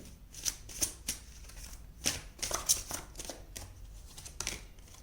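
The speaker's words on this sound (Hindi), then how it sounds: "हम और कार्ड्स निकाल लेते हैं आपके फ्यूचर के लिए।" Tarot cards are shuffled and drawn by hand, with crisp papery riffles and snaps repeating irregularly at close range.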